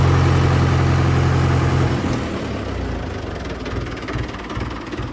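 A Mahindra 475 or Farmtrac 45 tractor engine idles close by with a steady low chugging drone that drops lower and roughens partway through.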